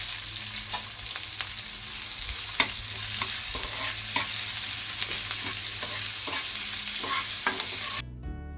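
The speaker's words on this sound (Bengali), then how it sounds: "পেঁয়াজগুলো খুব সুন্দর করে ভাজা করে নিতে হবে" Onions sizzle steadily in hot oil with nigella seeds, with periodic scraping and clinks of a spoon stirring the pan; the sound drops away abruptly at the end.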